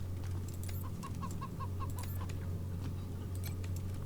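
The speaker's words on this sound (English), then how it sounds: "We have our personal chicken." A chicken in the video game Wasteland 3 gives a short run of evenly spaced clucks over a steady low game hum and ambience, with a few soft clicks scattered throughout.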